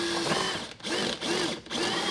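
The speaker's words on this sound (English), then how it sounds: "probably just run a couple of screws in here, and then just wherever they land, go ahead and run them in the bottom here" A power drill drives screws into brackets, whirring loudly and continuously up close, with two short dips in pitch as the screws seat and the trigger eases.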